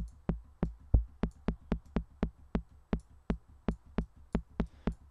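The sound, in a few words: synthesized kick drum click layer in Harmor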